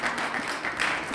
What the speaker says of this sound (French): sur vos applaudissements, s'il vous plaît